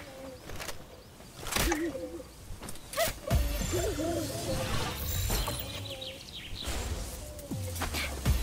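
An owl creature in the video game Palworld gives hooting, warbling calls mixed with thuds and other game effects, fairly close and at a moderate level throughout.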